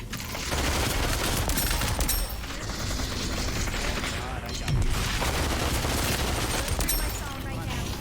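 Rapid, dense MP5 gunfire in the Population One VR shooter, heard during a close-range clan-wars fight: near, loud, sustained bursts with clatter and impacts over about eight seconds, with voices faintly mixed underneath.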